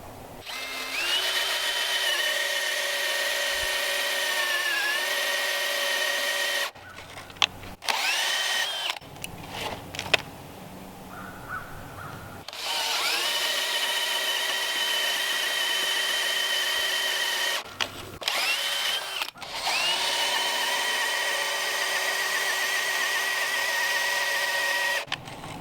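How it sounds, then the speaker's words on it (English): A power drill whines steadily as it bores into timber for timber frame joinery, running in long stretches broken by short pauses and clunks, close and loud. "So now we got to drill the center portion down about 2 inches."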